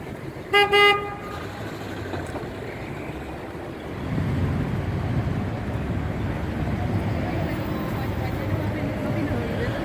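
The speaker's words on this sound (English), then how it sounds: "They'll toot their horn." A quick car horn toot rings out near the start on a street in Mexico City's Centro Historico, followed by rumbling traffic and engine noise that swells and continues.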